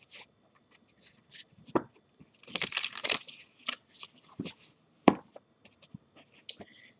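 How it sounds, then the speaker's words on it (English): Soft, papery rustling and quick flicks of tarot cards being shuffled by hand, close up. The sound comes in uneven bursts with a denser run in the middle. "I just like for you to see them being shuffled"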